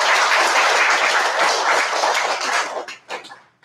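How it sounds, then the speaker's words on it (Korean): A congregation at a church service gives thankful applause, a dense, even wash of many hands clapping that fades out near the end, leaving a few scattered claps. "일평생을 하늘 부모님을 증거하시며 이 땅에 모시기 위해 수고해 주신 참 부모님께 우리 한번 감사의 박수를"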